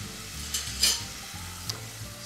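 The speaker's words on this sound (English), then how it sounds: "we can start to sweat some sliced white onion" Sliced white onion, salted, sweating in a hot pan while a utensil stirs it: a faint, soft sizzle with a few light scrapes, quiet and close.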